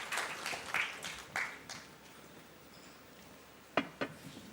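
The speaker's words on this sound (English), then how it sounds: "Once again, a big round of applause to all of our panelists and our moderator." Audience at an art programme launch event at Kempegowda International Airport, Bengaluru, clapping for panelists and a moderator: a short burst of scattered applause that fades, followed by a few isolated claps.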